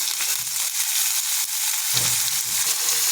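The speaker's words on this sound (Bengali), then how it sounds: "আলুগুলো লাল করে ভেজে নেব।" Chopped potatoes fry in hot oil with dried chilli, panch phoron and onion, a loud continuous sizzle broken by brief scraping stirs.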